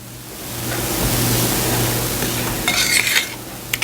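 Unsalted butter and brown sugar cook in a sauce pot with a steady soft sizzle and hiss, close by, with a few light clinks of a utensil against the pot near the end.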